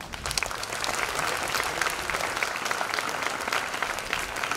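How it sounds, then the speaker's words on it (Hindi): An audience at a Jeevan Vidya Parichay workshop session bursts into loud, sustained applause, a dense even wash of clapping that carries steadily through the whole stretch with no talk over it. "तो आज के लिए जोरदार तालियां।"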